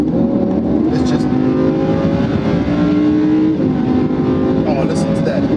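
The engine of a Lamborghini Huracan with paddle shift hums steadily from inside the car and rises in pitch in a couple of revving swells. A voice talks over it.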